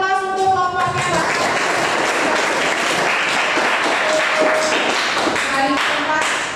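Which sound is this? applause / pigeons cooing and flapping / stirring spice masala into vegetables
applause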